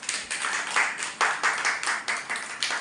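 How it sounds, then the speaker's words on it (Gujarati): Children at a village preschool centre clap their hands together in a loud, regular rhythm of distinct beats, close by and with no talking over it. "તાળી પાડો બધા."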